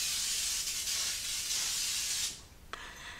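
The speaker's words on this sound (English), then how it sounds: "we're just going to lightly spray it" A steady aerosol hiss of cooking spray coating a baking dish for about two seconds, close and fairly loud, then stops, followed by a faint tap.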